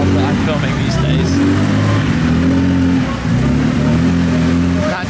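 A Jaguar Lightweight E-Type's engine pulls away loud and close, holding a steady low drone through the whole stretch with a short dip near the end.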